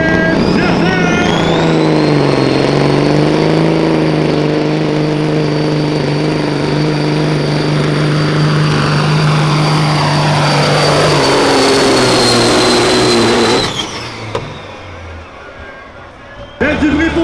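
Semi truck engine roaring loud and sustained during a truck pull competition at Truck N Roll en Coeur in Bedford, Québec, its pitch slowly sliding over many seconds before cutting off, with an announcer's voice and crowd noise around it.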